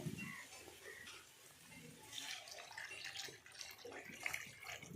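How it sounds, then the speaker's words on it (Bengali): Water is poured into curry cooking in a pan, giving a faint, soft splashing and trickling sound that continues for several seconds. "এবার আমি পরিমাণ মতন জল দিয়ে দেবো।"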